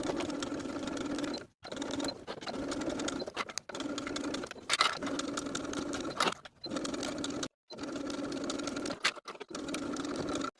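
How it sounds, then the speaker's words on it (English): A sewing machine runs bursts of stitching along the top front and back edges of a tiered maxi dress with a 3/8 inch seam allowance, steady whirring runs broken by brief stops, close and alone. "we're going to sew all around the top of the front and back edges with a 3/8 inch seam allowance"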